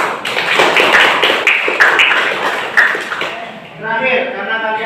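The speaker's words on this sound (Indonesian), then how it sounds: "Semangat aplaus untuk kita semuanya." A school class claps in a rhythmic pattern, with sharp hand claps about half a second apart, followed by a brief tonal voice-like sound.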